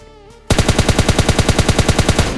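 Rapid automatic gunfire in the PUBG video game bursts out after a short quiet lead-in, a loud, evenly spaced string of about twenty shots continuing to the end.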